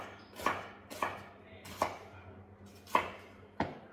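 Five sharp knife chops on a cutting board while chopping garlic, spaced unevenly about a second apart, close and clear with a low steady hum underneath.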